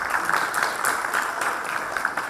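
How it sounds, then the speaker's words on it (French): Audience in a hall applauding after a talk at a session on childhood Covid, a brief, steady patter of many hands clapping at moderate loudness with no voices. "Et on va t'applaudir, bien sûr,"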